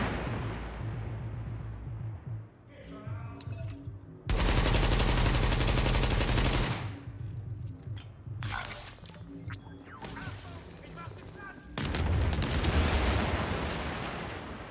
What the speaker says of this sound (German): Natürlich schießt das ganze Magazin ins Leere